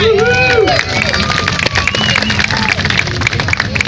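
At an alligator show in a swamp safari park, a crowd claps and cheers loudly and steadily while voices chatter and call out through the applause, with a brief tonal whistle-like sound at the start.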